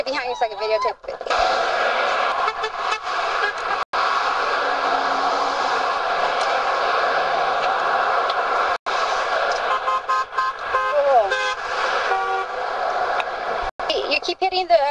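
Car horns honk repeatedly from passing traffic at a roadside rally supporting troops, short toots scattered over a busy, continuous street din, with people talking throughout.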